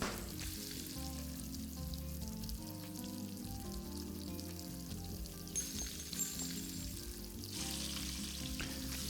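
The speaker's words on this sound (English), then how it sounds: "Just trying to flip an egg." An egg frying in a pan in the Arctic Eggs video game: a steady, close crackling sizzle runs throughout, with a few brief brighter spatters and clinks near the end.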